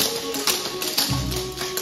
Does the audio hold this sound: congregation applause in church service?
no